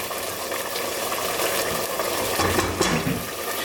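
Japanese curry paste being stirred into a pot on the stove: a continuous scraping, sloshing stir with a faint bubbling sizzle, steady and close, with no talking.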